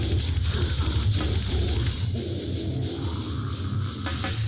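Slam death metal excerpt: dense, heavily distorted down-tuned guitars and pounding low drums fill the mix continuously and loudly, with no break or voice standing out.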